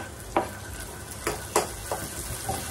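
Onions and tomatoes fry in hot oil in a pan, giving a steady close sizzle broken by about five short scraping stirs spaced roughly a second apart.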